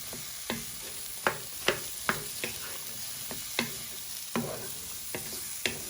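Mushrooms frying in a pan for a Beef Wellington base, a steady soft sizzle with repeated sharp scrapes and clacks from stirring, spaced every half second or so, close and alone with no talk.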